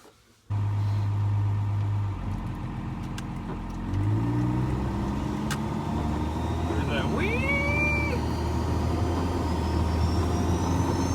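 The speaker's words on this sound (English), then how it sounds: "That definitely is the sound of boost leak." A 12-valve Cummins diesel truck engine with a boost leak rumbles steadily up close, rising in pitch partway through as a thin whistling whine sweeps up and down over the engine drone.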